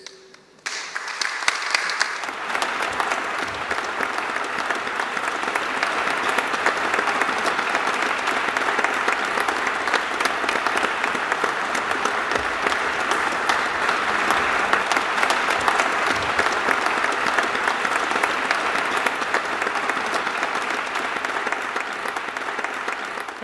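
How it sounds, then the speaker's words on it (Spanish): Sustained applause fills the Argentine Senate after a senator's farewell speech, a dense, steady roar of clapping hands that holds loud and continuous for over twenty seconds after a brief quiet start. "El aplauso cerrado para Esteban Bullrich"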